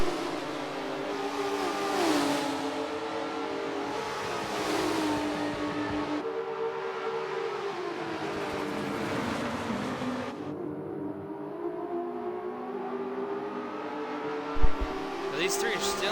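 Prototype race cars in a sim racing series on the Dubai circuit scream through repeated rising and falling engine revs with gear changes, two cars close together, while a commentator talks over them.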